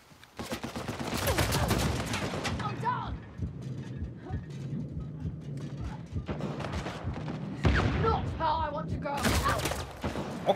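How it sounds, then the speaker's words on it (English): Uncharted 4 gunfire comes in dense bursts of rapid shots, loud and close, then fades into scattered shots and game noise before a second heavy burst near the end. A voice talks intermittently over the action. "Already getting shot."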